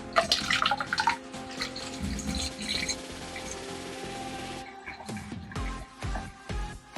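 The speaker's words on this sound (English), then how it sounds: "First, I'm going to fill the jug up about halfway with water." Water runs from a tap into a one-gallon plastic jug of spring water, a steady close gush with shifting splashy texture that settles into a lower, fuller gurgle as the jug fills, then pauses and resumes in short bursts near the end.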